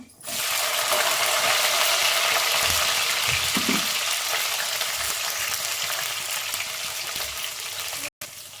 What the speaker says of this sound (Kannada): ಈಗ ಸ್ವಲ್ಪ ಕಡಲೆಬೇಳೆ, ಹಾಗೆ ಸ್ವಲ್ಪ ಸಾಸಿವೆ, ಈಗ ಹಸಿಮೆಣಸಿನ್ಕಾಯಿ ಸೇರಿಸ್ಕೊಳ್ಳೋಣ